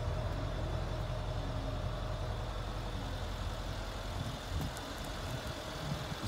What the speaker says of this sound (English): Dual pipes, listen to that rumble.